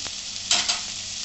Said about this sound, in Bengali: একটু কাঁচা গন্ধটা যাবার জন্য জাস্ট একটু তেলে আমি এটা ভেজে নিচ্ছি।